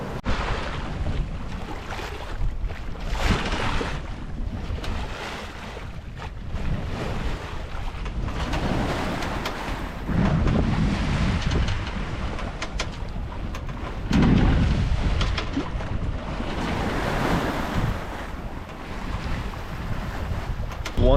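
A sailboat moves under sail at night on Lake Erie in plenty of wind, its motor running to charge batteries. Steady wind buffets the microphone over the low rush of water and hull noise, with gusts swelling throughout.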